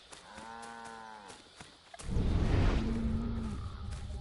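Cows mooing in the video game Assassin's Creed III: one long, drawn-out moo up close, then a second lower, rumbling moo with a wide, heavy tone, no speech.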